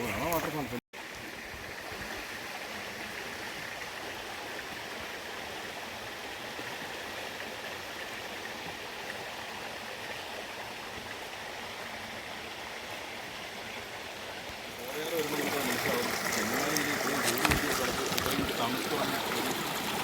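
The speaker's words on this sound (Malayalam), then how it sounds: "വെള്ളച്ചാട്ടം" A forest stream and waterfall roar in a constant broadband rush, close and full, that grows louder and brighter near the end as the water comes nearer.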